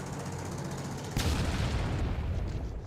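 A Ukrainian FPV drone strikes the top of an armored BTR vehicle in a war zone: a steady rumble is cut by one sudden loud blast that booms and fades into rough noise.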